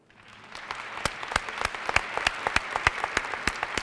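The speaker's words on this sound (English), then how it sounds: "you may applaud" Audience applause at a university honors convocation, starting quietly and swelling into steady clapping, with individual sharp claps standing out clearly above the crowd wash.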